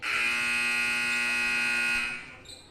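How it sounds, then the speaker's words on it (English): A loud, harsh electronic buzzer sounds in a gym before a high school volleyball match, one sustained blast lasting about two seconds before cutting off. "the buzzer."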